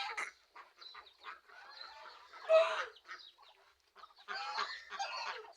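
Ducks honk and quack in uneven bursts while being fed papaya outdoors, a close, scratchy chorus of calls with short pauses between them.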